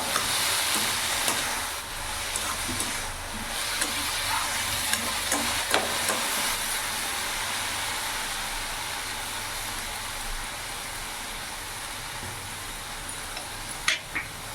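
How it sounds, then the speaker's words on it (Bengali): Fenugreek greens and green chilies being stirred in a pan, with a steady low sizzle and continuous scraping movement throughout, plus a brief sharper clink near the end; no one speaks. "এবার ভালো করে মিশিয়ে নেবো"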